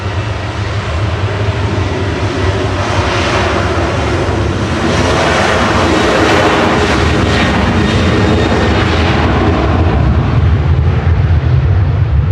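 An airliner departs Manchester Airport for Tenerife South, its jet engines giving a loud, continuous low rumble and roar that builds steadily over twelve seconds, heard alone with no voices.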